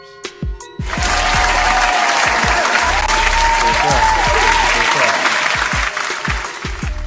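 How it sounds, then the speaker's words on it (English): A canned applause sound effect is played by a podcast host, beginning after a brief bit of talk and a few knocks, then a loud, steady burst of crowd clapping and cheering that holds for several seconds before easing slightly. "I gotta do the claps too."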